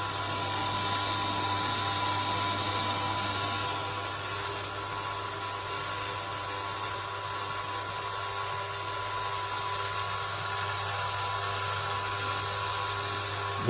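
A model 811 sesame seed oil press machine runs steadily, a constant mechanical hum with a low drone and grinding texture, loud and close, with no talk.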